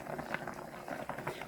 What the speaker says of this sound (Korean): 이제 마늘을 1스푼 넣고 2분 정도만 팔팔 끓이겠습니다.